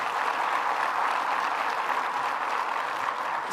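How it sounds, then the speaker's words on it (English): An audience at a government announcement event in the Finger Lakes region applauds the mayor, a steady, even burst of clapping heard alone. "let's give another round of applause to our mayor"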